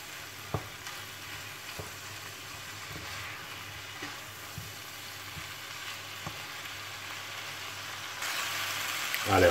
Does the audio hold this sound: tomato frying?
yes